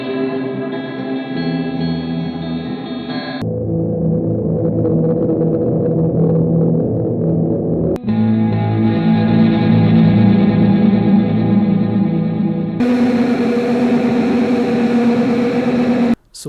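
Electric guitar run through three shoegaze effects pedals, washed in heavy distortion, chorus and echo, with long sustained chords that shift tone in several sections, loud and close with no talking.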